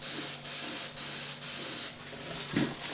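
Spray paint hisses in several steady bursts across the rear of a Boba Fett helmet ear cap, each pass separated by short pauses, close and fairly loud with no talking.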